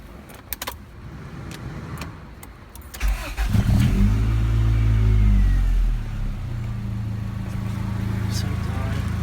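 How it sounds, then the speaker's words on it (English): A Honda Civic hatchback cranks and starts after a few clicks and key jangles, then settles into a close, steady idle with a brief rev; someone speaks over the start. "I'm gonna turn on the car, and then I'll show you guys what I'm gonna do. Turn it on."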